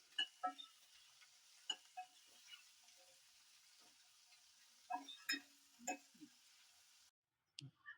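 Spices and aromatics frying in oil for a chickpea masala gravy, a quiet steady sizzle with scattered soft clicks and stirring taps, a few louder bursts near the end before a brief pause.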